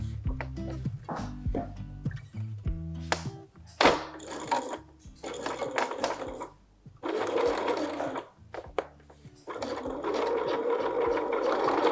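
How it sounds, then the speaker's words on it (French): Stitches are laid by a sewing machine fitted with a zipper foot while topstitching a skirt, producing uneven bursts of needle thumps that start and stop, then settle into a longer continuous run near the end. "pour réaliser cette surpiqûre, j'ai toujours en place mon pied spécial fermeture"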